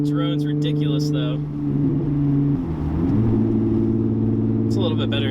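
A Hyundai Genesis Coupe 3.8 drones steadily while cruising at 50 mph in fifth gear, a low constant engine hum with a brief shift in pitch midway, and a voice speaks over it at the start and end.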